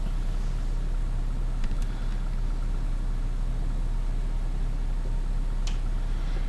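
A Valtra N tractor in Farming Simulator 19 idles with a steady, low engine hum and drone, running alone at an even level with no voices, apart from a couple of faint, brief clicks.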